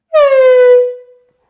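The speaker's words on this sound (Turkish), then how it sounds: "Bu elimde gördüğünüz maç kornası." A handheld stadium air horn gives one loud, close blast lasting about a second, a bright buzzing tone that holds steady and then fades out.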